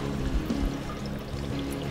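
Water dripping and trickling from an elbow fitting on an aquarium rack drip system line, a continuous close splashing pour without gaps, steady in level from start to end.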